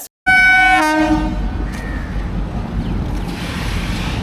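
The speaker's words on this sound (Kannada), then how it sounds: "ಕರೆಕ್ಟ್ ಟೈಮಿಗೆ ಟ್ರೈನ್ ಕೂಡ ಬಂತು" A loud passenger train horn blasts for about a second as the train arrives at a station, then a heavy, steady rumble of rolling railcars continues close by.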